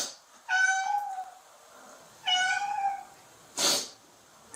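A cat meows three times, each call long and drawn out with short pauses between them, close and clear with no one talking.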